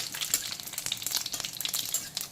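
Panch phoron fries lightly in oil with a fairly quiet, crackly sizzle that flickers unevenly throughout, with no voices.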